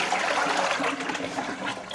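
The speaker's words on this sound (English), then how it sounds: "I've had them sitting here overnight in a tub of water, which I'll pour out there" Water that soaked bamboo skewers overnight pours out of a tub, giving a continuous splashing, gurgling rush that stays fairly close and steady for about two seconds, with no talk over it.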